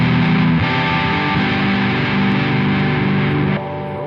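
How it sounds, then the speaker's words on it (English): A heavily distorted guitar, run through an Ableton Live loop setup, plays sustained chords, thick and buzzy, steady in loudness and dropping slightly near the end. "Then we get some distortion."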